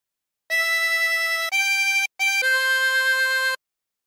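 Harmonica playing the opening phrase of O Canada, a few sustained reedy notes in sequence with short breaks between them, loud and close with no talking.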